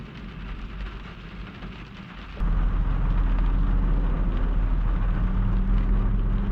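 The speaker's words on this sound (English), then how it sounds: "What we got here is rain." Rain falls steadily close by, a broad hiss that turns noticeably heavier and louder partway through and then keeps pouring evenly, with no voices over it.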